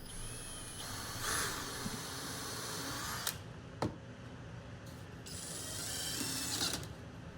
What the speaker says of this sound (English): as I add all the screws